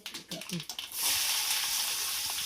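Onions dropped into hot coconut oil with mustard seeds start a loud, steady sizzle right after a few brief clatters, frying continuously up close with no talk.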